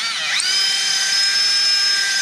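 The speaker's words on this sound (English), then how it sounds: "I'm drilling out" A power drill bores out a tiller adjustment screw hole on a Mercury 15 Pro outboard kicker, its motor whining up to a steady, loud, high continuous pitch held to the end, close and alone.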